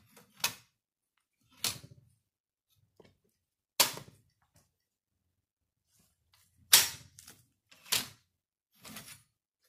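A bayonet is slid and fitted onto a Brown Bess musket, giving sharp metallic clicks and scrapes in scattered bursts, close and crisp against quiet.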